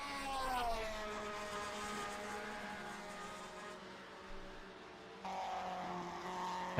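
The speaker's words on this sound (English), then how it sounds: "A very distinctive Ferrari and a very lovely note" A 1950s Ferrari Grand Prix car in a racing game at Zandvoort, its engine note rising and falling through gear changes, a sustained harmonic drone with a sharp upshift near the end, moderately loud and alone.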